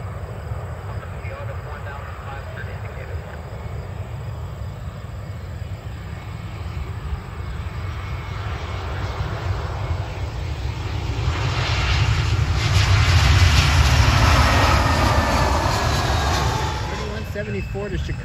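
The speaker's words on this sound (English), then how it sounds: "Got an American Airlines Airbus A320." An American Airlines Airbus A320 jet airliner roars past at an airport, its engine rumble building to a loud broad peak midway before easing off.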